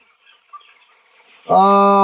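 Near quiet at first, then a chicken lets out one loud, close call at the end.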